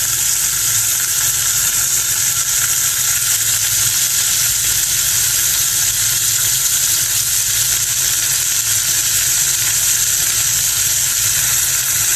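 Eggplant and a fish head fry in hot oil, giving a loud, steady, unbroken sizzle that fills the whole stretch with no talking over it.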